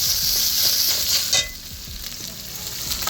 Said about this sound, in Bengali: এর মধ্যে দিয়ে দেবো আদা বাটা, রসুন বাটা দিয়ে খুব ভালো করে, যতক্ষণ না গন্ধ যায় ততক্ষণ খুব ভালো করে কষাতে হবে।